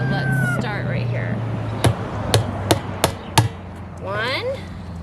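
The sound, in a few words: hammering rivets into a Wildgame Innovations deer feeder barrel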